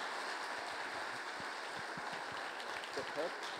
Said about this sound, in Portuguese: Uma salva de palmas para os nossos palestrantes